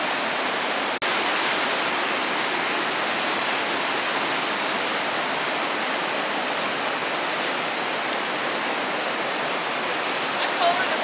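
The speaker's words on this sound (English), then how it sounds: "Chauncey's got to put her feet into the Pacific Ocean in December" Pacific Ocean surf at Pismo Beach, California, in December, a steady broadband wash of breaking waves that stays loud and continuous throughout, with a brief dropout near the start.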